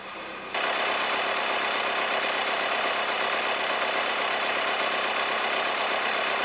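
An Audi car engine idling after a tandem pump replacement, starting with a quiet hum and then settling into a loud, steady, even idle that continues alone throughout.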